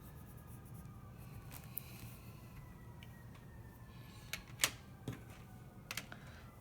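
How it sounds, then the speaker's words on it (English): A white colored pencil is worked over paper to blend and smooth colored shading, giving soft scratchy strokes with occasional sharper scrapes, faint and close in a quiet room. "you can take a white colored pencil and you can go over it with a white colored pencil"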